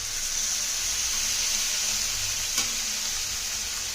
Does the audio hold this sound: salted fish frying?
yes